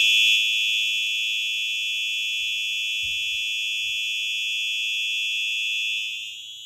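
A Simplex 4903-9836 fire alarm horn sounds in a loudness test. It gives a loud, steady, high-pitched electronic tone that holds for about six seconds, then weakens and trails off at the end.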